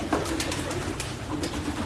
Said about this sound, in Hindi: इनके पास काफ़ी पुराने कबूतर हैं